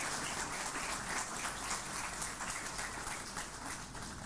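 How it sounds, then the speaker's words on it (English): An audience at an MBBS induction ceremony applauds the new students and their parents, a faint but dense, even wash of many hands clapping steadily with no voices over it. "A big round of applause for yourself and the parents especially."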